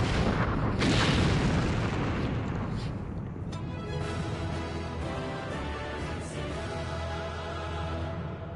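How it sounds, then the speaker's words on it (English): Siege cannons firing in a Final Fantasy XIV battle: a loud booming blast near the start, followed by a dense, rumbling wash of battle noise and further muffled impacts that continue steadily throughout. "So there is siege weapons in this fight, which is kind of cool. Obviously use cannons."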